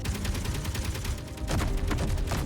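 Gatling turrets in Space Engineers fire in rapid, continuous bursts, a dense rattling stream of shots that grows heavier partway through as more guns join in, with no voices.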